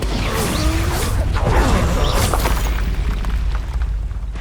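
An Expulso explosion spell in Hogwarts Legacy erupts as a loud, rumbling blast with whooshing and crashing debris, heavy low boom sustained over several seconds amid busy game combat effects.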